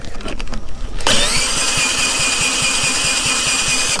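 A small engine being cranked to start on an off-grid homestead: a rough cranking rattle for about a second, then a loud, steady close mechanical whine and rapid pulsing running on, with no talking.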